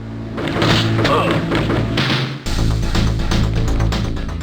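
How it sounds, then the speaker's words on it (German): Heavy booming thuds and explosive blasts from a giant cannon in the 1995 video game Crusader: No Remorse, loud and dense with game music and effects layered throughout, a brief dip midway before the barrage resumes. "man kommt aus dem Aufzug raus und da ist gleich diese Riesenkanone."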